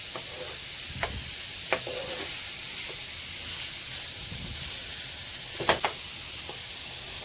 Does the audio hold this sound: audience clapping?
no